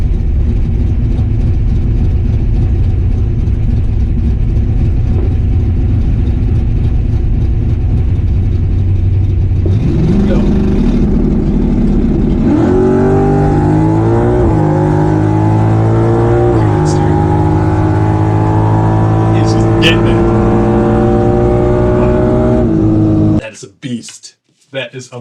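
A modified turbocharged Pontiac drag car running E85, with a Turbo 400 transmission and Dana 60 rear end, revs loudly and steadily, then climbs through rising pitch sweeps before cutting off abruptly near the end.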